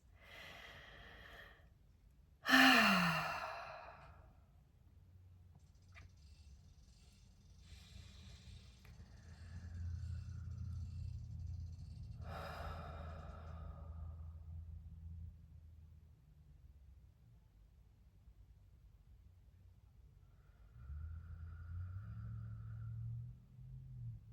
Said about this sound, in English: let's ground and take some deep breaths